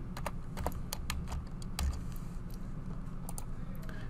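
Computer keyboard typing while entering a level value in Revit, a steady run of crisp close clicks with a few louder keystrokes over faint background hum, no voices.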